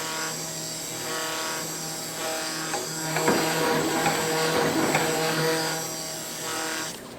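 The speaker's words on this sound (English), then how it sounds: "you'll probably hear the air conditioner" An air conditioner runs in an attic studio, giving a steady, constant hum with a faint tonal whine throughout, partly covered in the middle by close scraping and rubbing handling noises.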